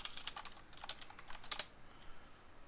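Keystrokes on a computer keyboard: a quick burst of crisp taps, a brief lull, then another tight cluster and a few scattered presses, close and clear with no voices.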